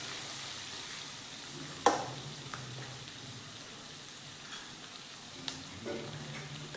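Dal frying briefly in oil for a spinach curry: a soft, steady sizzle with a few sharp clicks and taps of a spoon against the pan, close and quiet, no voices.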